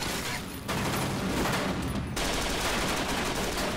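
Gunfire in Escape From Tarkov, a dense continuous burst of rapid shots roaring loud and unbroken, with a short slightly quieter stretch early on.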